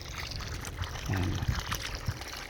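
Clear water pours and trickles to water bitter gourd plants on a farm, a soft, low-level splash that swells briefly in the middle over steady background noise.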